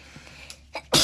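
One sharp, loud sneeze bursts out at the very end after a couple of quick breaths, up close in a quiet indoor room during a card-opening session.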